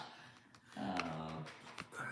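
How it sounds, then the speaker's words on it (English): Dogs growl and whimper close by in a sustained, rumbling snarl with short yips and sharp bursts, fairly loud and without clear talk over it. "Dogs going bananas."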